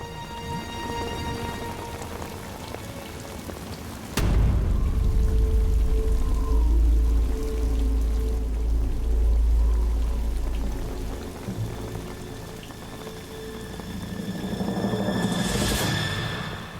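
Torrential rain pours down hard and steady, a dense, loud roar that swells suddenly after a quieter opening and stays close and heavy, easing slightly before building again.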